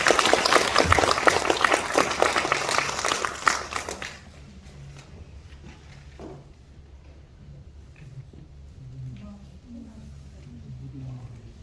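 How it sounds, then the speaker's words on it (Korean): An audience at a book launch applauds loudly for about four seconds, and then the room goes quiet with faint shuffling and murmuring. "우리 박수 한번 쳐주시기 바랍니다"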